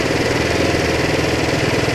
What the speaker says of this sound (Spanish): La vamos abriendo hasta que la moto se acelere un poco